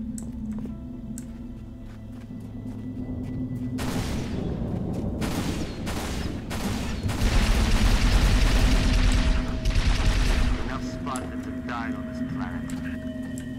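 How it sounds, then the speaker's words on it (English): Gunfire from Magnum security sidearms in the video game Halo Reach, with a run of booming shots and bursts over a steady game soundscape, loudest midway and mixed under voices. "Gunfire. Magnums. Security sidearms. Standard issue."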